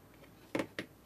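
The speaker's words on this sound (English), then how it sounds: "we can cut this little strands a little bit shorter" Scissors snip twice through short strands of crochet yarn while finishing a handmade owl ornament, two brief close crisp cuts in a quiet room.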